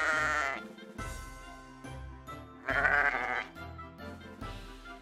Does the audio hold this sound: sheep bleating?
yes